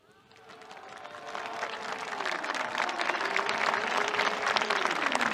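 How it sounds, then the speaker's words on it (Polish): Applause from a crowd at a Polish political rally builds from quiet to loud and dense, with a voice or tonal sound drifting through underneath. "Wielkie brawa!"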